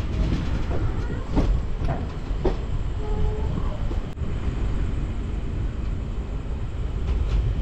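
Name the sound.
train passing at night near Dum Dum, Kolkata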